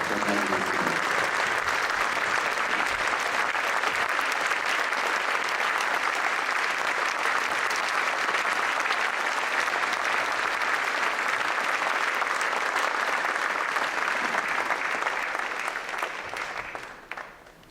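A seated audience in Italy gives long, sustained applause in tribute to journalists killed in Paris, a dense, even wash of clapping that holds steady and then fades out near the end.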